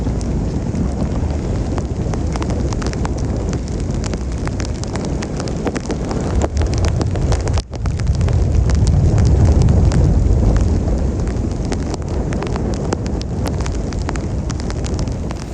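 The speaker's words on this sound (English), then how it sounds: "Don't know if you can hear the sound of the rain. It's hammering it down." Heavy rain lashes a Bavaria Cruiser 45 sailing boat amid gusting wind, a dense, steady roar of broadband noise and buffeting close to the microphone, swelling louder after a brief dip midway, with no talk.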